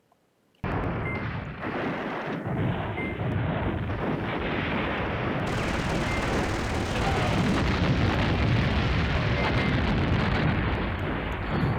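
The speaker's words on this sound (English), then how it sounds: "let's do another airstrike" Continuous heavy rumbling blasts from airstrikes in the Command Ops 2 wargame, a dense wall of loud explosions rolling on for about eleven seconds after a brief silent start.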